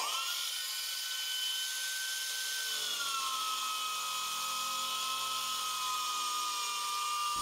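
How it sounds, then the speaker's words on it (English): A 3M Match and Finish sander with a 777F abrasive belt grinds steadily on metal near a weld, giving a continuous close whining drone whose pitch dips slightly partway through, with no voices. "set the grain with 3M's 777F abrasive belt on the new 3M Match and Finish sander"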